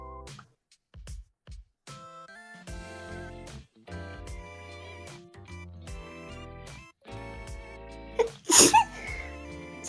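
A single sharp sneeze bursts out near the end, loud and close, over quiet, steady background music and a few soft knocks.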